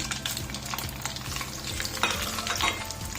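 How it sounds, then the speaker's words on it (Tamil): Mustard seeds popping and spluttering in hot oil in a pan while making tomato pickle, a dense crackle of sharp little pops with a steady sizzle underneath, close and fairly loud, no voices. "கடுகு பொரியட்டும்"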